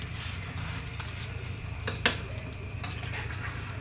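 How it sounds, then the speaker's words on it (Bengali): Paratha frying in a little oil in a pan: a soft, steady sizzle with an occasional faint clink or scrape, quiet and continuous with no voices. "তো অল্প একটু তেল দিয়ে জাস্ট পরোটা রেডি করছি।"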